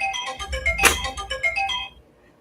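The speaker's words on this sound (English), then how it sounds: "That's my alarm that tells me I'm supposed to go live." A phone alarm ringtone plays a bright, repeating electronic melody for about two seconds, loud and close, then cuts off into near silence.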